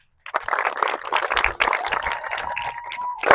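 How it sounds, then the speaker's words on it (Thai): Applause from supporters at a youth under-12 football match, a dense burst of many hands clapping that starts abruptly and continues steadily at moderate loudness, with a brief tonal whistle-like note near the end. "ปรบมือกับกองเชียร์ครับ"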